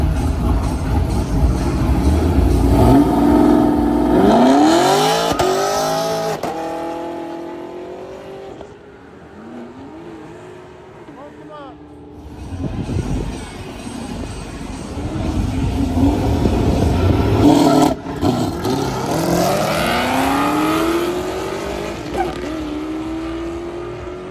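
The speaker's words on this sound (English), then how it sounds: "another S650 newer model versus LT1 Camaro. Let's see who wins this one" A Ford Mustang S650 and an LT1 Camaro drag race, their engines roaring loud and close as they rev hard, rise through gears, ease off briefly, then build again in a sustained high-revving roar.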